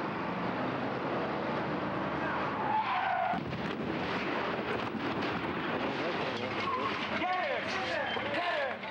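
A stunt car rolls and skids near an old train station, a steady rushing roar of tires and engine with wind buffeting, brief squeals rising over the noise.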